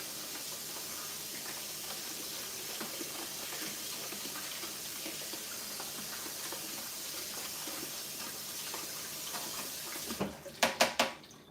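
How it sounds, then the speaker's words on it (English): A fine sieve is rinsed under a running tap while homemade chicken broth is made from frozen scraps. Water rushes steadily for about ten seconds, then a few sharp clanks of metal close out the clip. "I gotta keep it cleaned up though. I rinse it out quite a bit."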